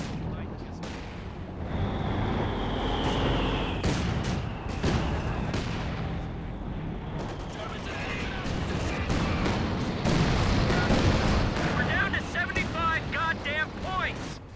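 Mortars in the strategy game Company of Heroes 2 fire and land in rumbling booms and sharp cracks, layered into a continuous battle din beneath a steady commentator's voice.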